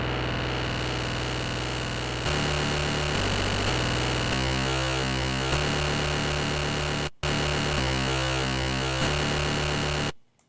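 An FM-modulated synth patch in Reason 6.5 meant to sound like a hummingbird plays dense, buzzing, metallic tones with a warbling modulation that speeds up. It sounds steady and loud and cuts off briefly twice.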